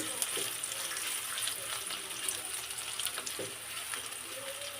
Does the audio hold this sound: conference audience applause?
no